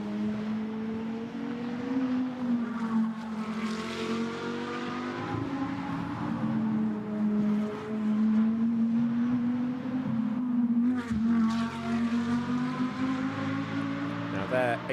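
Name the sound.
GT2 race car engine passing at Monza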